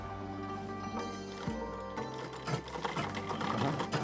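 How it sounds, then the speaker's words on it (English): A sewing machine whirs and hums steadily nearby, its motor shifting pitch as the stitching speeds up and slows. "Now install the next part on the sewing machine."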